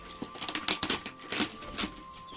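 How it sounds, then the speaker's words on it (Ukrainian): White chicks unpacked from a box, giving a quick run of soft scratchy taps and pattering scuffles close by, with no voices. "Розпаковка білих курчат"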